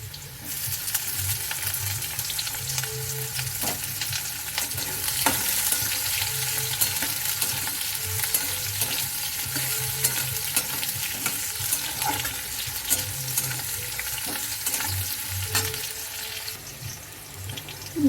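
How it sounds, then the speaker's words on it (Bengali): Garlic, dried red chilli and onion frying in a pan before greens go in: a steady loud sizzle with frequent spoon scrapes and clinks throughout, no speech. "রসুন পেঁয়াজটা ভাজা হয়ে যাক"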